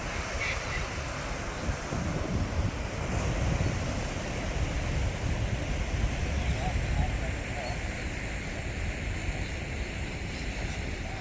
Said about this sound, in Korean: 남태평양의 시원한 파도 소리를 한번 들어보시죠